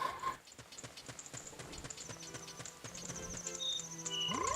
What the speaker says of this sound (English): once you've heard Epona in this game, man, that's the only horse you're going to be hearing